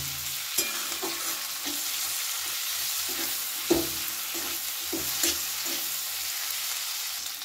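Spice paste and vegetables for chilli paneer stir-fry in a pan over a low flame, with a steady soft sizzle broken by repeated light scrapes and knocks of the stirring spoon.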